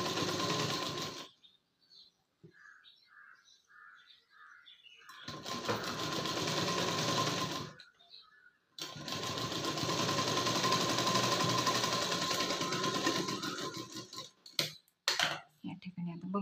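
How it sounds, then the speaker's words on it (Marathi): A sewing machine stitches a prince-cut blouse in two steady runs of even mechanical whirring, broken by short pauses, with a few faint clicks near the end. "एकदम दमाने घ्यायची शिलाई, घाई करायची नाही अजिबात."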